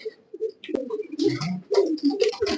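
Several fancy pigeons in a loft cooing nearby, low rolling coos in short overlapping bursts with some higher chirps and a sharp click, with no talking.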